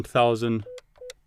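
Two short keypad tones from an IP desk phone, each a steady pure beep, following a brief spoken number; a voice talks just before the tones.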